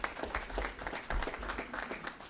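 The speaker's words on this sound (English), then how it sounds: "give her a round of applause" An audience at an Atlanta mayoral press conference on a tax relief program gives a short round of applause, a fairly quiet patter of scattered claps at some distance, lasting about two seconds.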